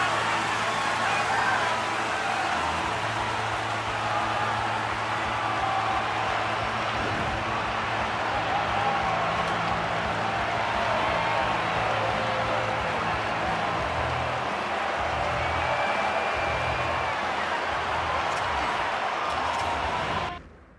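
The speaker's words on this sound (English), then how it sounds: "This crowd is on fire right now!" Hockey arena crowd in the video game NHL 26, a dense continuous roar of cheering that holds steady and loud before cutting off abruptly at the end.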